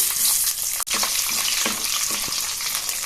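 Garlic cloves fry in hot oil with mustard seeds, fenugreek, cumin, dried red chillies and curry leaves for a fenugreek curry, giving a loud, continuous close sizzle with a few soft stirring knocks and no talk.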